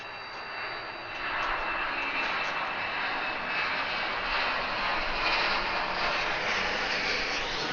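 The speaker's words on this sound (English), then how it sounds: "Air Canada 767 freighter, really? Alright, so here goes the 767. Climbing out of there pretty fast." An Air Canada Boeing 767 freighter jet climbing out fast after takeoff from Atlanta airport, a broad, steady engine roar that swells after the first second and holds at a distant, moderate level.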